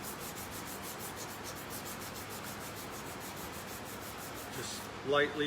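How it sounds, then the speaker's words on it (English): Small pieces of 600 grit sandpaper are rubbed lightly back and forth over guitar frets, making a quiet rhythmic scratching. Short strokes repeat steadily, and someone speaks briefly near the end. "Same thing, little pieces of sandpaper, and we're gonna just go back over them with the 600"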